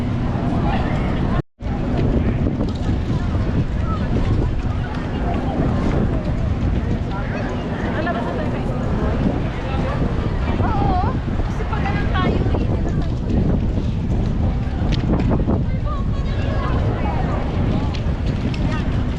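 Strong wind buffets the microphone on a blocked-off city street in Bonifacio Global City, Philippines, a loud continuous rumbling roar that fills the whole stretch with only a brief dropout near the start.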